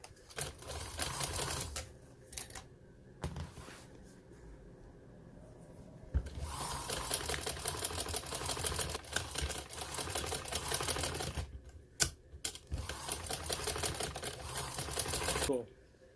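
A sewing machine stitches along the edge of trouser fabric in quick rattling bursts of rapid needle clatter, stopping and restarting several times with short quiet gaps between runs.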